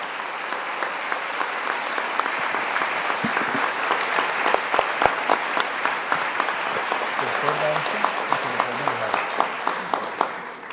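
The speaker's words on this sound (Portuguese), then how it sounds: "Desde lo más profundo de nuestros corazones, agradezcamos con un enorme aplauso" Sustained applause from a large congress audience for the closing lecture speaker, dense steady clapping with sharper individual claps standing out, filling the hall throughout with a faint voice briefly underneath.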